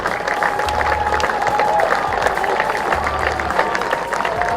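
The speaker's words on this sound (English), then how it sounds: "big round of applause here from" A crowd at a high school boys' soccer regional final trophy ceremony (Ottoville vs Mansfield Christian) claps and cheers continuously, a broad sustained wash of applause with some background tones mixed in.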